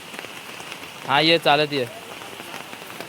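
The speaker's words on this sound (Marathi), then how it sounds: "पाऊस लागतोय" Steady rain falls across a monsoon scene in rural Konkan, a constant soft hiss running through the whole stretch while someone speaks briefly in the middle.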